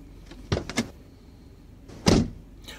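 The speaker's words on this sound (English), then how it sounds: "We'll just roll down the window." A car's power window rolls down with a faint motor whir, framed by a couple of clunks and thumps from the door.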